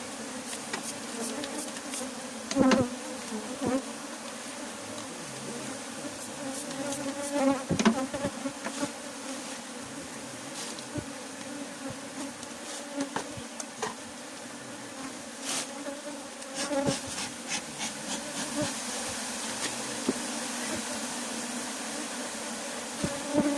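Thai cavity-nesting honey bees buzz steadily at a hive kept over a year, a dense near drone with brief louder swells as individual bees pass close; no talk.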